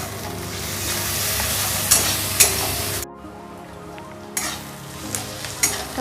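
Ginger-garlic paste frying in a pan, a steady close sizzle with stir scrapes and a few spoon clicks, the sizzle dropping sharply midway before resuming.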